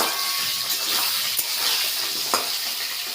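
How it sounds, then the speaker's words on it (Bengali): Potatoes for a meat curry frying in a pan, a steady close sizzle with occasional stirring scrapes and clinks, no talking. "আর এখানে আমি মাংসের আলুটা ভেজে নিচ্ছি।"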